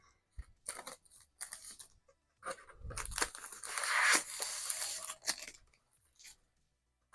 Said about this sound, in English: the most satisfying part of painting your body is removing this film